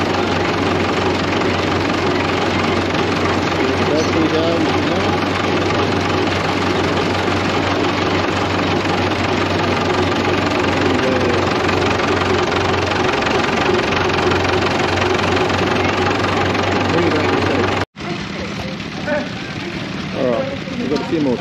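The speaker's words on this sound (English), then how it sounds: "few more tractors here now" Old tractor engines idle and chug steadily at a steam show, a continuous low knocking drone close by, with the level dropping briefly near the end.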